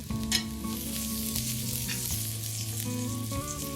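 Aloo paratha fries in ghee on a hot pan with a continuous close sizzle, while steady tonal background music plays underneath throughout.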